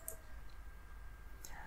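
Two faint computer mouse clicks while designing a logo, a short crisp tick near the start and another about a second and a half later, alone against a quiet background.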